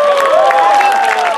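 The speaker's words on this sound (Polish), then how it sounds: "Wielkie brawa dla niego." Audience clapping and cheering at a Polish knights' combat tournament, a steady dense wash of applause with crowd noise over a short stretch.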